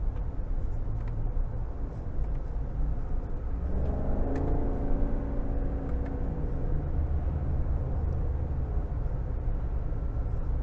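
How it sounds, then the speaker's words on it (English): Chevrolet Silverado 1500 LTZ Crew Cab with the 6.2 engine downshifting via paddle shifters in low mode, heard from inside the cab as a steady road rumble with a rising rev swell partway through. "I'm just going to test out how quick the paddle shifts are."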